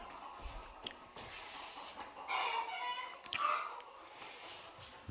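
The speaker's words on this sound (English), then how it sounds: "The chickens are making some noise." Chickens under a house cluck and squawk in agitated bursts, fairly faint and a little distant, with a louder flurry in the middle and no talking.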